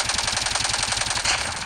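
Rapid automatic gunfire rattles in the Call of Duty Mobile video game, a loud, steady burst of closely spaced shots at even rhythm, with no talking.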